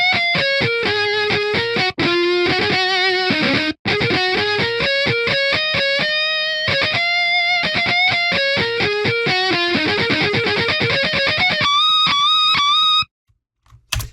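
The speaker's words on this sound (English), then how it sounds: "This is like me manually automating the pitch bends for the guitar." Virtual guitar solo programmed in a piano roll with manually automated pitch bends, playing a fast distorted melodic line of bending, sliding notes that runs continuously for about thirteen seconds, then cuts off abruptly.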